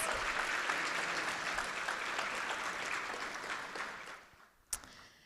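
Audience at a Mosley High School honors tapping ceremony giving a round of applause, steady crowded clapping that tapers off after about four seconds, followed by a single sharp thump.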